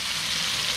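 Okra masala spices sizzle hard in a hot pan just after a splash of water goes in, a loud, dense, steady hiss with no talking.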